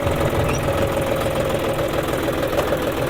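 A John Deere 5075E 75 hp tractor engine runs steadily close by, a continuous low diesel drone with even rumble and no breaks or voices.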